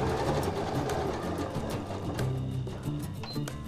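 A Janome sewing machine stitching box pleats, its motor running in a steady continuous whir with light mechanical clatter, close and fairly loud.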